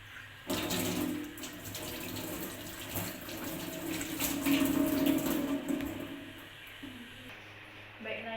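Water runs steadily from a tap into a sink during handwashing in a clinic exam room, a continuous hiss for most of the clip that cuts off near the end.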